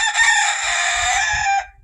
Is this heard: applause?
no